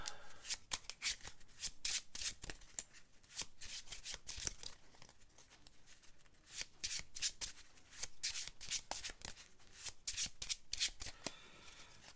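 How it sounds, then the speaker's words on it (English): Rapid riffle shuffling of playing cards, repeated crisp bursts of flapping card edges close by, continuing steadily with no voices. "I always hate it when you have to shuffle for just one card"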